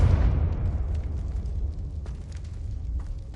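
A Confringo blasting spell explodes in Hogwarts Legacy, a loud low boom at the start that rolls off into a long rumbling decay with scattered crackles and small bursts.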